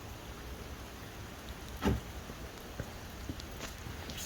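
Light rain falls outdoors around a 2019 Ford F250 6.7, a soft steady patter hissing in the background with a single louder drop or tap standing out partway through, and no voices.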